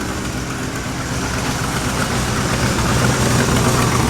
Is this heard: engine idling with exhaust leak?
yes